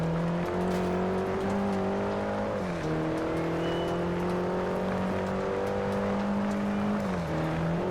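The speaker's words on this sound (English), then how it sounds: "you can't really hear much over the sounds of the engine" A race car engine in Forza Horizon drones loud and steady at high revs, its pitch stepping down briefly with gear shifts before climbing again, with no voices over it.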